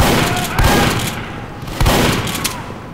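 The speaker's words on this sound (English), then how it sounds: "I got a shotgun right here" Two loud, booming shotgun blasts from the video game Team Fortress 2, about a second apart, each followed by a long, noisy tail of gunfire.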